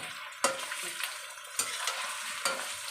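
Prawns sizzle and fry in a hot pan while being stirred, steady crackle punctuated by three sharp utensil scrapes at regular intervals, no voices.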